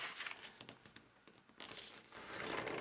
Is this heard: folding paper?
yes